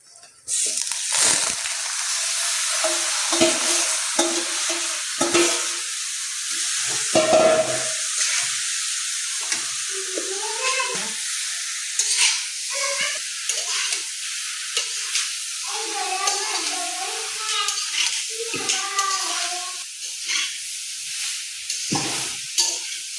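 Jujube fruit (bogori) sizzling in a pan for pickle while being stirred, with steady frying hiss and repeated scraping and clattering of the stirring, loud and close, no talk.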